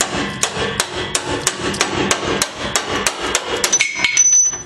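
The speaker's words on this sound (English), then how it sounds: "I'm hammering left-handed, so that's why I'm missing." A steady run of sharp metallic hammer blows driving a bolt out of truck suspension, close and loud, repeating at a quick regular pace before a high ringing tone near the end.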